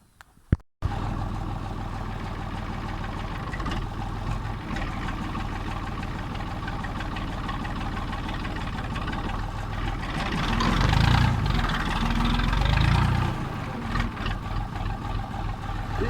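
A tractor or machine engine starts up and runs steadily while pulling tree stumps from a field, a loud continuous mechanical drone that swells under heavier strain partway through.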